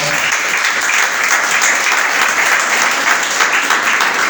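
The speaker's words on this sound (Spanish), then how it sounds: "denle un aplauso si le va a dar" Loud, sustained applause fills a church congregation during a sermon, an even, unbroken roar of many hands clapping close by.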